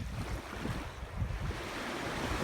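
Waves wash onto a white sand beach at Monterosso in the Cinque Terre on the Italian Riviera, a continuous loud surf roar mixed with wind buffeting the microphone.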